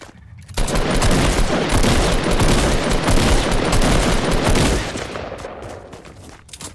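Rapid gunfire bursts in Fortnite at Tilted Towers, a loud, dense fusillade of overlapping shots lasting several seconds before tapering off.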